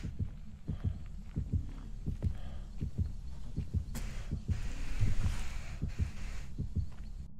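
A heartbeat in the ghost-hunting video game Phasmophobia thumps in a steady, regular low double pulse, moderately loud and continuous over a faint hum, with a brief high rustle partway through.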